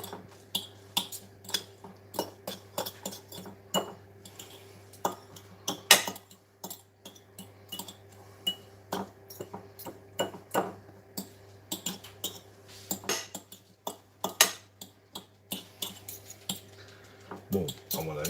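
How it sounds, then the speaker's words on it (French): Two forks crushing warm hard-boiled eggs in a dish, making a run of irregular light metallic clicks and scrapes, with a steady low hum underneath. "Donc je concasse mes œufs, qui en fait sont des œufs cuits durs mais chauds."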